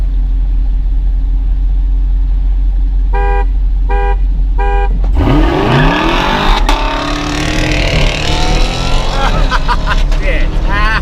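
Three short evenly spaced honks from a car horn before a street race between a Camaro SS and a Dodge Challenger RT, over an idling engine, followed by engines roaring and accelerating hard away.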